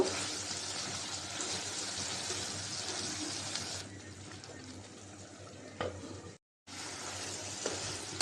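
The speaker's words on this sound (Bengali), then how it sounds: "মাংসটা আর একটু কষাই নিব" Pieces of mutton fry in a hot pan while being stirred, a steady broadband sizzle with scraping movement, loud and continuous, changing tone midway, then a brief silent break before the frying noise resumes.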